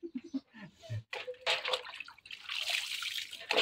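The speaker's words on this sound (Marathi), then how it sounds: "झाली मण्याची आंघोळ करून झाली. आता राजाची आंघोळ" Water poured and splashing while a farm animal is bathed outdoors, a steady wet splashing that builds and continues through the second half after some close voices and handling sounds at the start.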